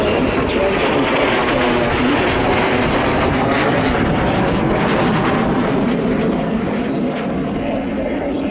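Loud, steady roar of military jet aircraft passing at an air show, with an F-35A among them, filling the whole stretch with broad engine noise while a voice speaks faintly underneath.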